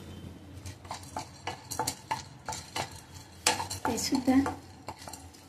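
Roasted chickpeas are stirred in a pan over low gas, a spoon scraping and clinking against the metal in an irregular rhythm, with a brief voice and louder clatter toward the end.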